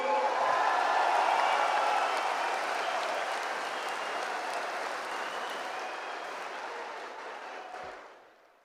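A packed hall at a Tamil Nadu political party's polling-agent seminar breaks into sustained applause and clapping, steady and full at first, then thinning and fading out near the end.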